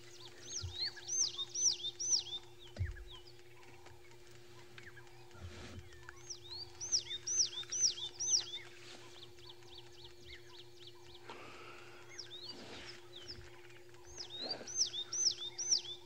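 Wild birds call in repeated bursts of bright, quick chirping phrases, spaced by brief lulls over a low steady hum, with a few soft thumps between them and no voices.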